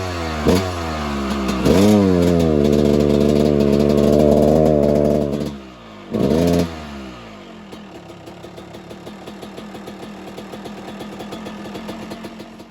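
A Suzuki RM250 two-stroke dirt bike engine is revved hard, its tone climbing and then bogging and flattening past about quarter throttle. Repeated loud blips follow, then it drops back to a fast, rattly idle close by.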